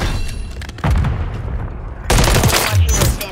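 Turret machine gun firing in Call of Duty Modern Warfare 3 multiplayer, loud dense bursts of gunfire with booming impacts, a pause near the start, then sustained heavy firing to the end.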